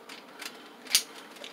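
A plastic Transformers Ultra Magnus toy gives soft, close clicks as its parts are folded during transformation. One sharper snap stands out among faint ticks in a quiet room.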